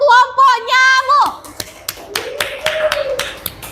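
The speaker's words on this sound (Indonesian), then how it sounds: "Beri tepuk tangan tuh kelompok nyamuk" Classroom children clap for a group of classmates, a scattering of sharp, uneven claps that follow a child's sung or drawn-out voice, with quieter talk in between.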